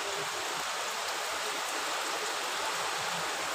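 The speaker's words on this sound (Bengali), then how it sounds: "প্রচণ্ড জোরে বৃষ্টি হচ্ছে" Heavy rain pours down in a steady, dense hiss that holds evenly at a strong level, with no pauses or individual drops standing out and no voices.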